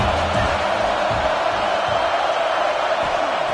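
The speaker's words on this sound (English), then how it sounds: "This crowd knows this defense needs them right now." A college football stadium crowd at an Auburn at Alabama game keeps up a loud, steady roar of cheering and noise throughout, dense and continuous with no single voice standing out.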